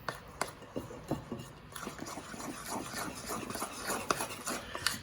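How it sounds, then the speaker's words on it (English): Banana bread batter being stirred to mix in the flour, with soft repeated squishing and scraping strokes of a spoon against a bowl, close and quiet with no speech. "at this point, you're just stirring it up and getting it all mixed in"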